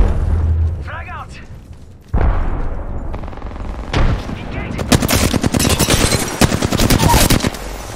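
In the Apex Legends battle, a grenade blast booms loudly, followed by dense rapid gunfire and shots in quick bursts, with a voice speaking over the combat.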